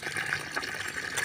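Steady rushing water pours continuously out of a pipe while a lower water tank is cleaned, a loud broadband gush with a constant hiss throughout, close by and with no talking.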